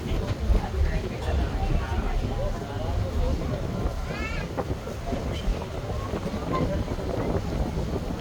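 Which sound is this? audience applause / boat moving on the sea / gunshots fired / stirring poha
boat moving on the sea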